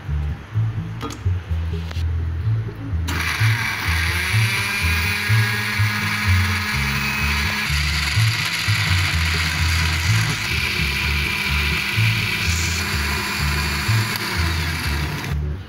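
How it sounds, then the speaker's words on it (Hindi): A mixer-grinder whirs steadily as it purées tomatoes with a little water into pizza sauce, a loud continuous motor drone with churning, squishing texture that rises in pitch after a few seconds and runs unbroken to the end. "अब इसमें ग्राइंड कर लूँगी इसको मैं।"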